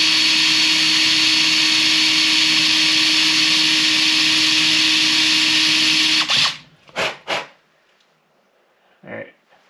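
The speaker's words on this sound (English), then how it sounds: "We'll drill this hole out here and see if we can get that lock cylinder out of there." An electric drill bores out the lock cylinder on a Ford Econoline van's dash, a loud, steady whine lasting about six seconds. It then stops, followed by a few brief clunks and a short burst of movement.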